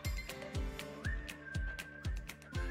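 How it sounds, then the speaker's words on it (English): A thin whistled tune holds a sustained note over rhythmic background music with a steady, thumping beat. "Ooh, whistling."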